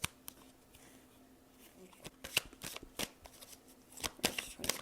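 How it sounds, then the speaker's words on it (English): Oracle cards pulled from pre-shuffled decks in a tarot reading, giving soft, scattered card flicks and slides that grow busier toward the end, close and quiet with no talk. "We're going to start out with pulling some oracle cards."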